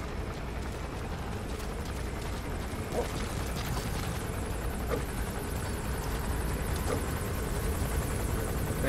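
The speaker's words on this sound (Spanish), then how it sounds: "Está dando la vuelta a lo que viene siendo el helicóptero" A helicopter circles in Metal Gear Solid V: The Phantom Pain, a steady droning rotor roar filling the scene at constant loudness, with faint recurring thumps and distant game ambience underneath.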